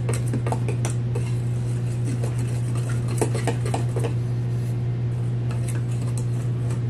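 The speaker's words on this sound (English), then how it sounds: "Mix it till it looks all incorporated together." Whisk or spoon scraping and clinking against a mixing bowl while stirring fresh-milled flour and cocoa powder for a chocolate cake, a continuous rhythmic clatter over a steady low electrical hum, no talking.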